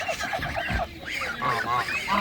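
Geese at an outdoor animal market in Ivano-Frankivsk honk and cackle loudly and close, several birds calling over one another in overlapping bursts.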